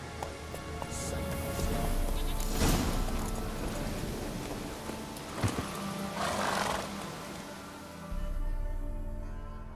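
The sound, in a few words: horse Roach galloping in The Witcher 3 video game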